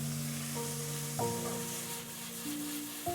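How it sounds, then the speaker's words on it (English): Onions and garlic sizzle as they sauté in olive oil in a pan over medium heat, a soft, steady hiss running beneath quiet sustained musical tones. "Simply sautéing onions and garlic in some olive oil gives off the most amazing aroma"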